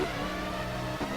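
Onboard engine of Diniz's BAR Formula 1 car at the 2002 Malaysia race in a racing game, a steady mid-pitched drone held close and loud for just over a second with a brief dip near the end.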